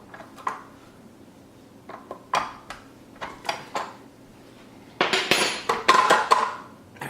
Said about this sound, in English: our bread is ready now, and it's time to get it out of the